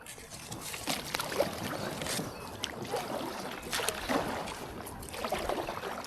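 Packraft paddled along the flooded River Idle, soft rhythmic paddle strokes and water splashing close by, with gentle trickling over quiet outdoor ambience.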